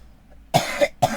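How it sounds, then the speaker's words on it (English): A man coughs in a quick burst of two or three harsh, close coughs, loud and alone with no talk over them. "So my apologies for me coughing."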